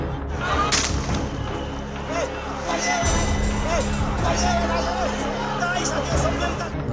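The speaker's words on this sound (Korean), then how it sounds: "최루탄과 물대포, 심지어 실탄까지 쐈습니다" Distant crowd noise and shouting at a youth protest in Nepal fill the scene while sharp bangs of live gunfire crack out intermittently over the chaotic din.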